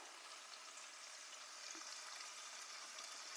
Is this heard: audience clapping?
no